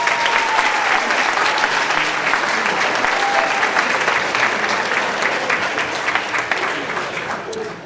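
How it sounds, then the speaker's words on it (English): An audience of about fifty young women at a presentation applauds steadily, a dense sustained clapping that holds strong throughout and begins to thin and fade toward the end. "I think that deserves a round of applause from you all."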